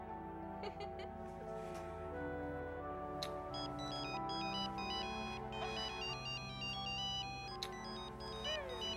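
A phone ringtone plays a repeating electronic melody, moderately loud and continuous throughout, with faint voices and other sounds beneath it.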